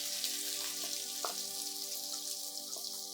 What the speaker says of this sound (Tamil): நம்ம சாப் பண்ணி வச்சுருக்க ஆனியன்ஸ் இதில் ஆட் பண்ணி நார்மலாக எப்படி ஃப்ரை பண்ணுமோ அந்த மாதிரி ஃப்ரை பண்ணிடுவோம்